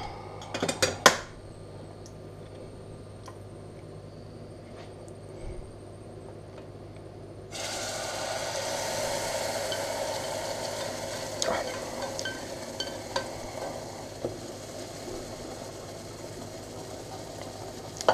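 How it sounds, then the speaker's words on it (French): A spoon stirs cream into hot caramel in a pan for a salted-butter caramel apple tart. A few clinks of the utensil come first, then a steady bubbling sizzle rises and continues with occasional scrapes. "et on mélange pour que le sucre, enfin le caramel, s'incorpore bien avec la crème"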